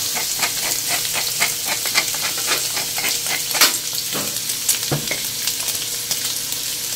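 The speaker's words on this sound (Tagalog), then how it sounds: "Gigisayin natin mabuti para malasa." Ingredients sizzle and fry in a pan while being sautéed for pares, a steady crackling hiss with scattered stirring clatters and pops throughout.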